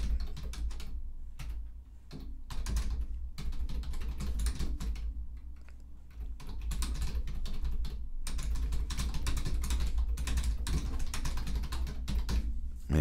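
Continuous clatter of typing on a computer keyboard, keys tapped in quick irregular bursts with short pauses, close and fairly loud throughout, with no talk.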